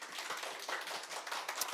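A children's Sunday worship service at a church, where a small crowd claps continuously and fairly loudly for a couple of seconds.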